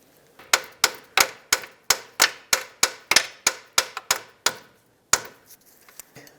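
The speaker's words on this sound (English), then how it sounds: "Now remove the nut and let's drive out the bolt." Repeated hammer blows drive a bolt out of the lower control arm on a 2003-2007 Nissan Murano, about fourteen sharp metallic strikes in a steady rhythm, close and loud, then a final hit after a pause.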